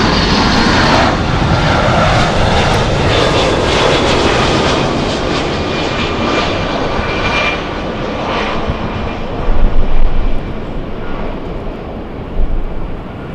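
A Boeing 757 jet airliner at LAX roars loud and close with a steady, broad engine wash that slowly fades a little toward the end.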